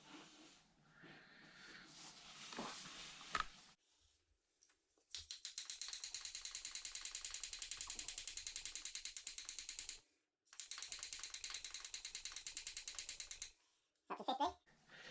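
A hand shock pump inflates a Rock Shox bike suspension fork to 50 PSI, with close, rapid rhythmic pumping strokes in two sustained runs separated by short pauses.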